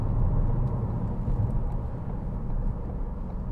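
A 2014 Ford Focus 1.6 TDCi Titanium Navigator diesel cruises along a motorway, heard from inside the cabin as a steady low engine drone and road rumble with no voices.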